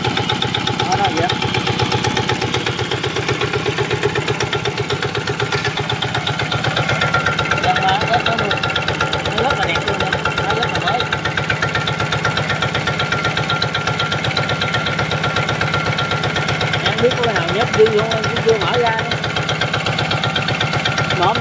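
A Zanma SS 60 motorcycle engine runs steadily throughout, a continuous mid-pitched idle with a faint knocking texture, while someone talks over it.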